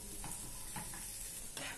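Carrot, capsicum and corn cook in a hot pan with a dense, continuous sizzle, broken by a few brief stirring scrapes, close and steady with no voices.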